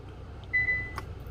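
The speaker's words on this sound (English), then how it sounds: "Holding this button, we're going to wait for that to beep twice." A short electronic beep sounds once from the cabin of a Kia Stinger GT, clear and close over a low engine idle, during launch control setup.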